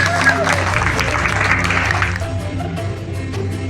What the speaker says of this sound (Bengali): একবার সবাই একসঙ্গে জোরে হাততালি, সিনিয়রদের যারা জোরে হাততালি।